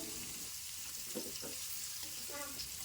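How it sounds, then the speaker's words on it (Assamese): Paneer pieces fry in a hot pan with a steady, close hiss of sizzling oil, joined by a few soft stirring scrapes. "পনীৰখিনি দুইটা ছাইডে আমি ৰঙচুৱা হোৱাকৈ ফ্ৰাই কৰি ল'ম"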